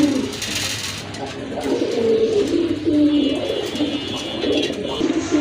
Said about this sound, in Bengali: আরেক জোড়া কবুতর